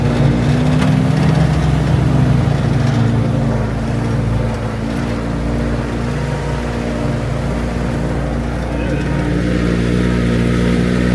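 A Jeep engine drones loud and steady throughout while four-wheeling up a dirt hill with no roll bar, a continuous low rumble with slight dips in load, likely with people talking in the cab beneath the engine noise.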